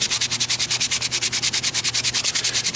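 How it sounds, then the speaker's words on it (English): A small piece of sandpaper rubs over a hand-whittled wooden miniature rhino in quick, even back-and-forth strokes, close and steady with no talking. "you can sand it just a little bit"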